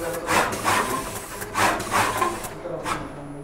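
An automatic 3D diamond stone-setting machine runs in repeating cycles, giving a close series of rhythmic scraping, whirring strokes about every half second that fade slightly near the end.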